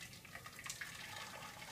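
Boiling water is poured into a pan around a jug of chocolate set to melt, a faint, steady trickle and splash lasting under two seconds.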